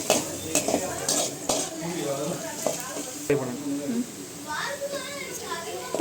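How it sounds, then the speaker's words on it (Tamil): Chopped ginger being stirred and sautéed in a pan, with a sizzle underneath and repeated utensil scrapes and clinks against the metal, while a person talks over it. "கட் பண்ணி வச்ச இஞ்சி. நல்லா பச்சை வாசனை போகிற வரையும் வணக்கிக்கோங்க."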